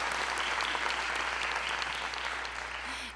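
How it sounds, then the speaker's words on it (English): Steady, dense clapping from a large audience at an awards ceremony, sustained at an even level and slightly tapering toward the end. "Big round of applause for all."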